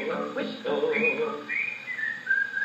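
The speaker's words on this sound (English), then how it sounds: "if you can't sing a song, just whistle, whistle" A whistled melody from a 1920s dance band record, played on a Victrola Credenza, with sliding clear tones over a soft band backing and gramophone hiss.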